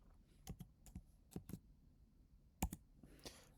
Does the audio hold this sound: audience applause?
no